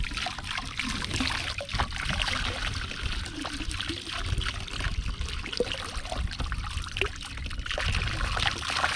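Water trickles steadily into a sample bottle as it is filled to the top during water sample collection, a continuous close pouring and dribbling sound with small splashes.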